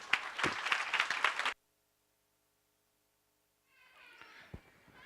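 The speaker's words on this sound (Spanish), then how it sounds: "Un aplauso, por favor" Applause from a forum audience, a burst of clapping that cuts off abruptly, followed by near silence, then softer sound with a few claps returning toward the end.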